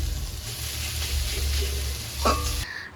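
Leafy greens such as red amaranth greens frying in a home kitchen pan, a steady loud sizzle with stirring scrapes that cuts off abruptly near the end.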